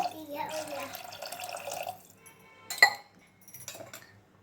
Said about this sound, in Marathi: थोडंसं पाणी ओतूया आणि 3 शिट्टी घेऊया आपण